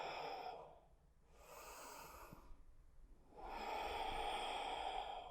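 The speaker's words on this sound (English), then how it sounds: "really nice, deep ujjayi breaths here" Deep ujjayi yoga breathing, long slow breaths in and out, close and alone, with a quiet pause between each breath.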